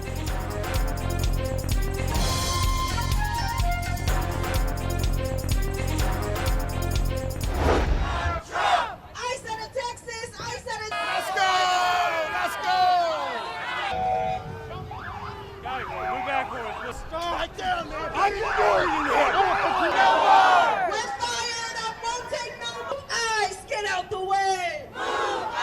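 Protest crowd at a No Kings rally against Trump in the United States, many voices chanting and shouting in rough waves behind layered noise. A tonal music-like passage opens the scene, then gives way to loud crowd voices that swell and fall.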